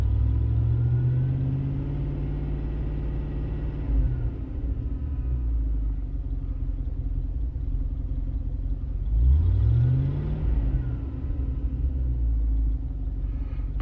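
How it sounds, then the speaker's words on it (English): A 1994 Range Rover with a faulty airflow meter rumbles at a low, slightly uneven idle, with a rev rise and fall partway through, close and steady throughout. "The engine starts. It's not quite as stable on idle as it was."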